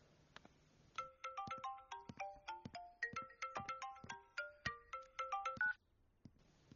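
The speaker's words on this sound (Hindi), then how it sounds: "हर 5 मिनट बिना रुकने वाला अलार्म जैसा फोन बजता ही रहता है।" After a brief quiet moment, a phone's melodic ringtone plays in rapid bright notes for several seconds, then cuts off abruptly.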